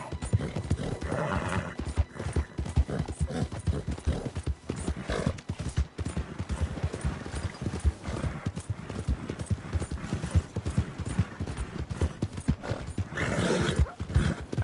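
Rhythmic clip-clop of horse hooves throughout in Red Dead Redemption 2, with a horse neighing loudly near the start and again near the end.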